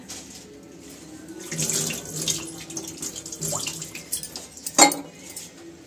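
Running water from a kitchen tap splashes into a sink while hands are washed, a steady rushing flow with brief louder splashes and a sharp clatter near the end, close by with no talking.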